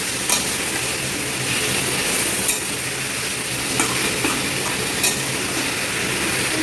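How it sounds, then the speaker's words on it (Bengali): Chicken sizzles in a pan over a high to medium flame, a loud continuous frying hiss broken by a few sharp scrapes and clinks of stirring, with no voices. "এবার আমি চিকেনটাকে একটু হালকা করে ফ্রাই করে নেবো, হাই টু মিডিয়াম ফ্লেমে"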